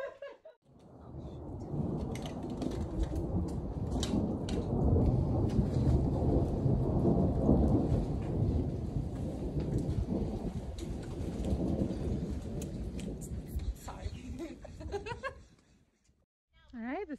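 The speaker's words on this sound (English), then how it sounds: "Quite the storm." A thunderstorm with heavy rain on a hiking trail in Bryce Canyon makes a dense, steady roar of downpour with rumbling thunder for about fifteen seconds, then drops away abruptly, with voices faintly present.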